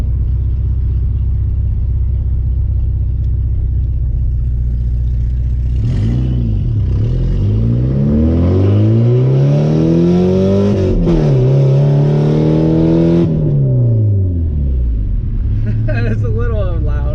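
An 1989 Porsche 944 with a straight-pipe exhaust idles loudly, then revs up through a rising, rasping roar, holds high, drops back and settles to a rumbling idle, close and loud.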